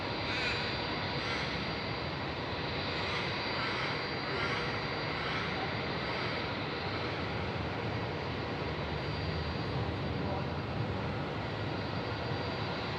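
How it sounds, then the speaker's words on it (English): An airliner flying Auckland to Singapore passes high over Melbourne Airport, a steady distant jet roar that fills the whole stretch while crows caw intermittently nearby. "Auckland to Singapore. Just overflew the airfield here at Melbourne Airport."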